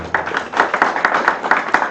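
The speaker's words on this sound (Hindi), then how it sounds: "तालियां बजाए प्रीति चंदा" An audience claps at a tilak ceremony, giving a brief burst of close, loose, uneven hand claps that patter steadily for a couple of seconds.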